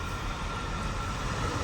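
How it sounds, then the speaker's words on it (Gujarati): A dense, continuous rumble and clatter of a train rolling past nearby, loud and unbroken throughout. "ટ્રેન નીકળી હો ભાઈ જો"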